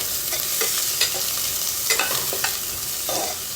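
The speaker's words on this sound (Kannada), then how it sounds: "ಆನಿಯನ್, ಚಿಲ್ಲಿ ಮತ್ತು ಶುಂಠಿ ಕಟ್ ಮಾಡಿಟ್ಟಿದ್ದೆಲ್ಲ ಒಟ್ಟಿಗೆ ಹಾಕ್ತೇನೆ. ಸ್ವಲ್ಪ ಗೋಲ್ಡನ್ ಬ್ರೌನ್ ಬರುವವರೆಗೆ ಫ್ರೈ ಮಾಡಬೇಕು." Chopped onion, chilli and ginger fry together in a pan while being stirred, a steady close sizzle broken by repeated scraping strokes of the spoon.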